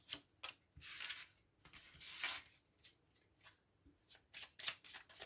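Tarot cards for a nine-card spread are shuffled up close in two long, rasping riffles, followed by a series of quicker, lighter card slides and taps, quiet and with no speech.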